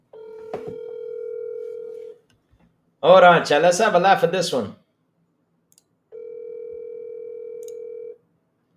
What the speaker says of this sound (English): Let me make this quick phone call.